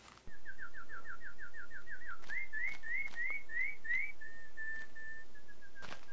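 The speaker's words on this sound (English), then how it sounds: "look at the little birdies." Bird calls from the video game Sauria: a clear series of rapid whistled chirps, then slower upward-sliding notes and a held whistle, fairly loud and alone over faint ambience.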